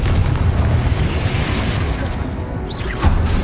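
Confringo blasting curse exploding in the Hogwarts Legacy video game, a loud sustained boom with heavy low rumble and crackling debris, followed by a brief whooshing swish near the end.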